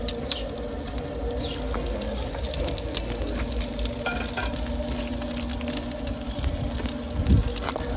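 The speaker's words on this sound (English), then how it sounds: "I'm going to sear the skin side" Pork belly, skin side down, searing in a hot pan: a continuous crackling sizzle with scattered pops and a brief louder spatter near the end, with no talk.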